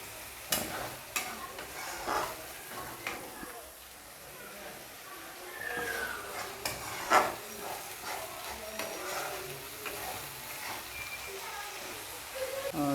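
Ground masala paste goes into hot mustard oil for a Nepali-style crab dish and is stirred, giving a steady soft sizzle with repeated scraping strokes of a spoon against the pan, close and moderately loud.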